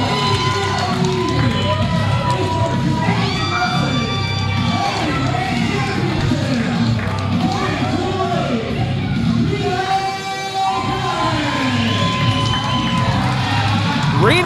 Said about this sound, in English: The crowd is excited to see him, as they always are.